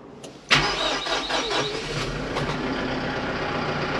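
A four-wheel-drive diesel truck with high and low range cranks and fires right up, a loud catch settling at once into a steady, rumbling idle close by.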